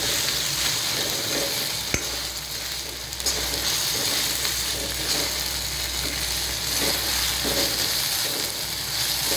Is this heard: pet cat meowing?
no